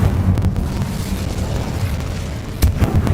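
A fire spell cast in the Hogwarts Legacy video game roars as a loud, sustained whooshing burst of flame, ending in a sharper flare near the end.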